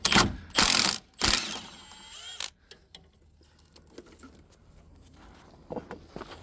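A ratchet works a 15 mm bolt on the steering column of a 1989 GMC Sierra Stepside pickup, giving a few loud bursts of fast clicking near the mic followed by quieter scattered ticks and handling noises.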